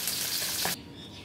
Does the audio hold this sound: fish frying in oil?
yes